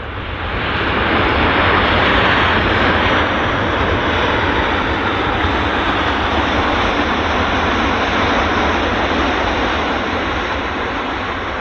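A WestJet airliner lands and applies reverse thrust, a loud, broad roaring rush that swells quickly and holds steady before easing slightly, heard from a fair distance with no talk over it.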